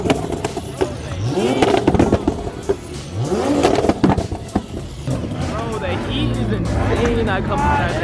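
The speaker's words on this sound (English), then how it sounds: "I heard the homie revving the R8." Twin-turbo Audi R8 revving at a car meet, loud rising and falling engine sweeps with sharp crackling pops repeating several times, heard amid crowd chatter and nearby talk.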